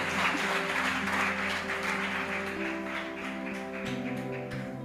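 Church congregation applauding, steady clapping from many hands over sustained organ or keyboard chords and music, moderately loud.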